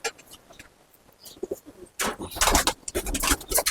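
Pigeons cooing and fluttering close by, soft at first, then a louder burst of overlapping calls and wing noise with faint traffic behind.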